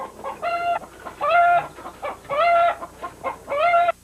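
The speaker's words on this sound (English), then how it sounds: "I think my rooster is agreeing with me in that nature will win" A rooster on Salt Spring Island crows several times in a row. The calls are harmonic and cluck-like, and each lasts under a second with short gaps between. They are moderately close and clear, with no talk.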